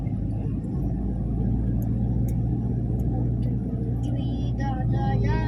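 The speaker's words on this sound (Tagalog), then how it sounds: "Oh, traffic." Steady road traffic rumble with passing cars and buses, a continuous low engine drone filling the scene while people talk over it.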